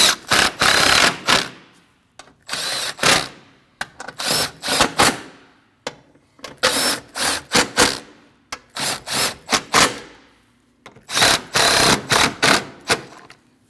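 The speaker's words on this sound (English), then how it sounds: "Now you can go around and tighten all your 10mm bolts." A hand ratchet tightens 10mm bolts on the radiator cooling fan assembly of a 2014-2023 Jeep Cherokee, heard up close as repeated bursts of rapid, crisp clicking separated by short pauses between bolts.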